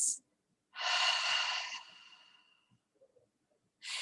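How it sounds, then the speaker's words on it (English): Deep breathing exercise: a slow, airy inhale through the nose, then a long, gradually fading exhale through the open mouth, close and alone, with a brief sniff at the start and another breath beginning at the end. "breathing in through the nose. Open up your mouth and then let it release."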